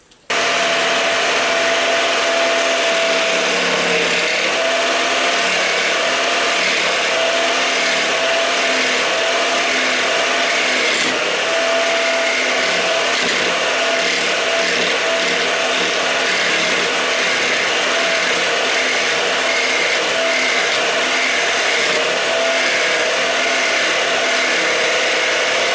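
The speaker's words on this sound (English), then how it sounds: "It would be nice to make some shavings on the lathe today" A wood lathe spins as a tool cuts shavings, making a loud, continuous whirring drone with a gritty, shifting cutting noise over it. The sound stays steady and close throughout, with no talking.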